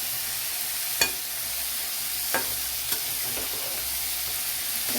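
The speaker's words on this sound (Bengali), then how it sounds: "চিংড়ি মাছটা ভাজা ভাজা হয়ে এসছে, এবার এই লোটে মাছটা দিয়ে দেবো।" Bombay duck (lote fish) and prawns fry in a pan, a soft continuous sizzle broken by a few sharp clinks of a spatula stirring against the metal.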